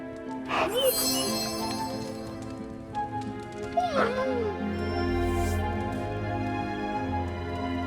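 Dog named Charlie in the Marvel Midnight Suns video game, giving a couple of short whimpering yips over a steady game music bed, with a low hum underneath.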